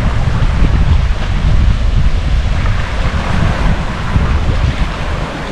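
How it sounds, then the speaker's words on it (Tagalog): Strong wind roars steadily at sea, buffeting the microphone with loud low rumbling gusts over crashing waves around a small boat out crabbing in rough, murky water. "Lakas ng hangin."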